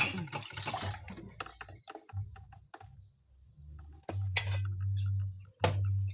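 Plates and dishes are washed by hand with water, with running splashes, clinks of crockery and cutlery, and bursts of flowing tap water, fairly quiet and close.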